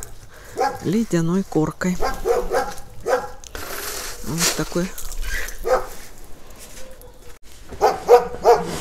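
Neighbours' dogs barking outdoors on a snowy winter street, a few distant yaps and woofs scattered under someone talking close by.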